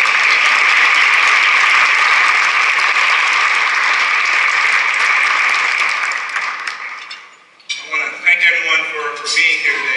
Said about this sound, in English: If everybody will join me in a round of applause welcoming our U.S.